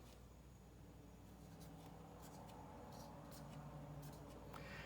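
Pen or marker strokes scratch steadily while someone writes out an inequality during a math lesson on the formal definition of a limit, with soft, continuous writing noise and short brighter squeaks over a quiet background hum.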